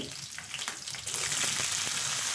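Garlic and dried red chillies frying in oil for amaranth greens, a close, bright crackling sizzle that swells louder partway through, with a few stirring scrapes and no voices.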